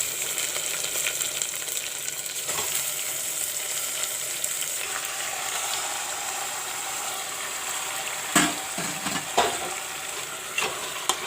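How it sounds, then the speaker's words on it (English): Marinated mutton frying in a pan with golden brown onions, a steady close sizzle with a few clinks and stirring knocks, with no talk. "Now I will put in the marinated mutton."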